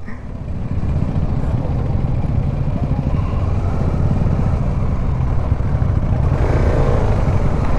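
An off-road motorcycle climbs uphill near Nandi Hills, its engine droning loud and steady with a rough, continuous rumble throughout.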